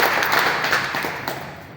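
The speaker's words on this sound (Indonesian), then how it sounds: "Kita berikan tepuk tangan buat kita." Congregation in an Indonesian church service giving a round of applause, a dense, steady patter of many hands clapping at close range that gradually thins toward the end.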